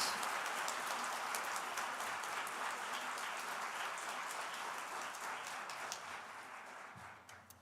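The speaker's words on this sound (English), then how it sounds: "clap as hard as you can" An audience clapping at a school farewell function for a graduating class, dense continuous applause that starts loud and slowly tapers off toward the end.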